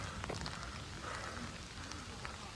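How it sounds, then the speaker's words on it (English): Faint, steady rain patters on surfaces at Ross Castle in Killarney, Ireland, a soft continuous hiss with scattered drops and no talking. "It's raining quite a bit."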